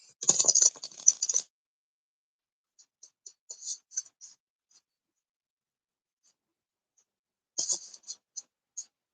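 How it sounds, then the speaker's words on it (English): Tarot cards being shuffled by hand: short, crisp papery riffling bursts close by, one at the start and another near the end, with scattered light taps and quiet gaps between. "I'm going to shuffle some cards for Lauren."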